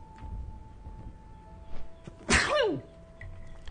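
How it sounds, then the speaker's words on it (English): A single sharp, loud sneeze close to the mic, with a brief intake before it, over a quiet background with a faint steady tone. "I was waiting for the sneeze."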